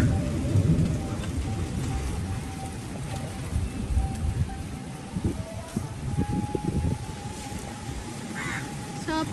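Heavy rain pours steadily on surfaces during an unseasonal storm, a dense close hiss with crows cawing faintly in the background.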